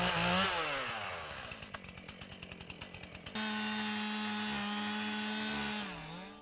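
Chainsaw cutting down trees at a mountain home build site, a loud engine that revs, chugs in a rapid rhythmic idle, then holds a steady high roar before trailing off.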